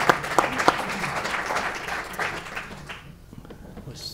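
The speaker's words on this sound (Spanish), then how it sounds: "Hay que aplaudir." Audience applause at a health policy conference session, a brisk burst of clapping that starts strong with a few crisp claps, then thins out and fades to scattered claps before trailing off.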